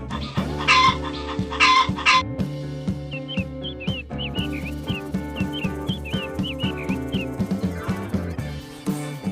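A hen clucks in a steady series of short calls over a bouncy musical backing, with bright chirping accents overhead.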